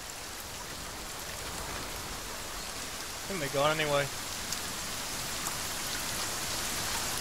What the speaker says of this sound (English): Oh, that rain. Noisy.